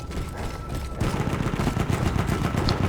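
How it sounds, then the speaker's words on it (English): Dense, continuous gunfire from multiple guns in the video game Battlefield 1, rattling bursts overlapping into a loud fusillade that intensifies partway through. "What kind of guns are these?"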